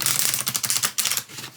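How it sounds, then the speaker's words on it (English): A 44-card oracle deck is shuffled, producing rapid rhythmic papery riffling and flicking close up, loud and alone with no talk. "let's shuffle these. Yeah, they shuffle."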